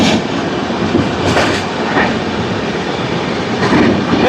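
A passenger train overtakes the Kakatiya Express at Bhuvanagiri station, a loud continuous rumble and rattle of rail cars with faint clatter of wheels, steady throughout.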